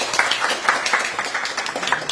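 Scattered clapping from a press-conference audience at a candidacy announcement for Gyeonggi provincial party chair, moderate and steady over two seconds with no clear speech on top.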